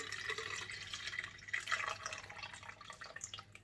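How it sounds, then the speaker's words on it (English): Cold tea poured into a big bowl, a faint trickling and splashing of liquid that swells briefly in the middle and then tapers, with no one speaking. "I'm just going to pour it into a big bowl"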